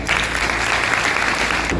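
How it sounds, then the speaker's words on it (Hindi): Loud applause from a seated crowd at a business meeting, a thick steady burst of clapping that stops abruptly at the end. "एक बार जोरदार ताली।"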